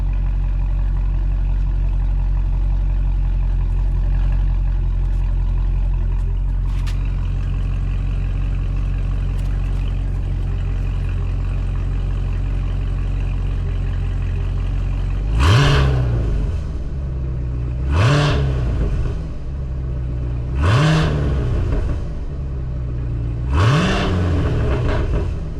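A 2024 Cadillac CT5-V with a valved Corsa Xtreme cat-back exhaust idles with a deep, steady rumble, then four sharp throttle blips spaced a few seconds apart roar up and drop back, close and loud.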